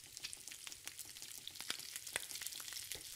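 Food sizzling and frying while cooking in The Long Dark survival game, a steady crackling hiss with scattered sharp pops throughout, no voices.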